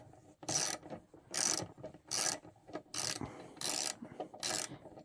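A Hyper Tough 3/8 ratchet cranked back and forth, six loud bursts of fast clicking evenly spaced with brief quiet gaps between strokes.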